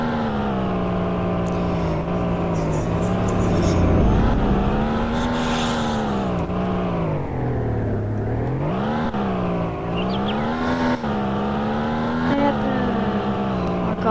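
Vehicle engine in a Roblox game, a continuous droning motor whose pitch rises and falls as it speeds up and slows, loud and steady throughout, with faint bits of talk over it.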